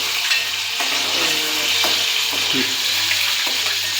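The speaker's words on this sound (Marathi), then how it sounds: "पनीर आपण तेलात आता फ्राय करून घेत मला ब्राऊन करून घ्यायचं" Paneer sizzles and spits in hot oil in a pan, a steady bright frying hiss with occasional stirring scrapes and knocks, close and continuous.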